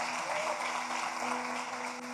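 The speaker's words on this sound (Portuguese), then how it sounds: "Ajuda aí então, aplaude" Congregation applauding in church during a Pentecost conference service, a steady crowd of clapping hands at moderate level, continuous and even, with a faint sustained tone and some murmuring voices beneath it.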